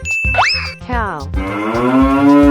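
A cartoonish cow moo in a 3D animal slide video game rises in a long drawn-out call over a bouncy musical backing, with a playful springy effect just before.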